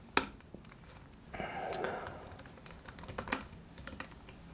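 Typing on a computer keyboard, close and fairly quiet, with irregular clusters of sharp key clicks, a soft breathy sigh partway through, then more scattered taps.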